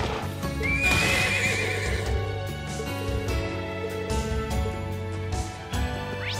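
A horse in a video game, The Legend of Heroes: Trails of Cold Steel II, whinnies loudly near the start, then hooves clip-clop steadily over a bed of background game music.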